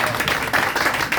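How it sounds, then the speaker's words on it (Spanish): Applause rises from the audience at a book presentation event, a short burst of fairly loud clapping that dips briefly midway before continuing. "Un aplauso."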